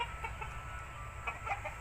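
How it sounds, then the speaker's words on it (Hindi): An Aseel rooster gives a few short, soft clucks close by, over a low steady background rumble. "अच्छा असील मुर्गा है"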